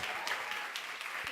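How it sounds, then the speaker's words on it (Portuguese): An audience at a church event claps for the pastors in a brief, steady burst of soft, slightly distant applause. "Uma salva de palmas para eles."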